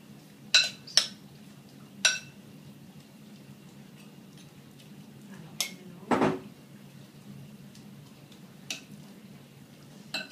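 A spoon stirs a soy sauce marinade in a dish, with a few sharp clinks of metal on the bowl early on and a brief scraping stir midway, otherwise quiet.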